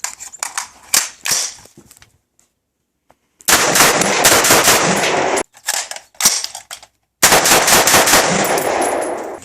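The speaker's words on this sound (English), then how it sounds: "I fired both through this rifle with no issues." A Colt SP1 rifle fires 5.56/.223 rounds in loud, sharp shots, a few scattered reports first, then two dense rapid strings of cracks separated by brief pauses.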